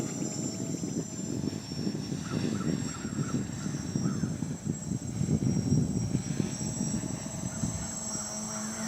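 A QuadLugs box quadcopter drone flies at about half throttle, giving a steady buzzing motor whine with a constant high tone and a rumbling low drone. It stays moderately loud throughout, with no talking.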